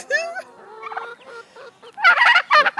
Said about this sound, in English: Oh, look at that turkey run.